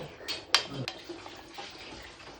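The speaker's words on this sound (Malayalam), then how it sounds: "നല്ലതുപോലെ കലക്കി പൊരിക്കണം" Egg chutney being stirred and fried in a pan, with a few sharp metallic spoon scrapes and clinks against the pan over a faint sizzle, quiet and close.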